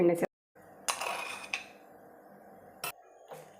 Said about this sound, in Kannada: ಈಗ ರಸ ಮಾಡೋದಕ್ಕೆ ಬಾಣಲೆ ಇಟ್ಟಿದ್ದೀನಿ, ಎಣ್ಣೆ ಸೇರಿಸ್ಕೊಳ್ತಾ ಇದ್ದೀನಿ